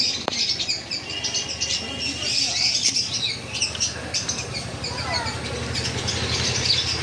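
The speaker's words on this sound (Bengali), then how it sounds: "এখানে নতুন নতুন কিছু পাখি আছে" Pet birds for sale, cockatiels, conures and java sparrows, squawking and chirping in a busy chorus of many overlapping calls, with shrill cries and a low background rumble, steady throughout.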